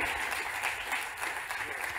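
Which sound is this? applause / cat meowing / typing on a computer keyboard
applause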